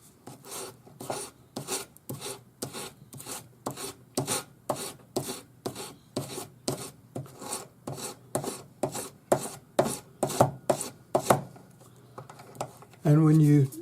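Rhythmic back-and-forth strokes of sandpaper rubbing over a solder join on a twisted silver ring shank, each pass a short rasp in an even, fairly brisk cadence, close up, ending with a brief louder scrape.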